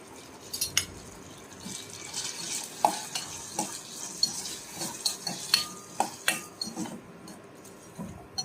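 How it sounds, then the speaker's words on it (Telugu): A spoon stirs and mixes upma ingredients with salt in a pan, giving a steady run of close, sharp scraping clicks over a soft sizzle, with no voices. "మొత్తం మిక్స్ చేసేసుకొని"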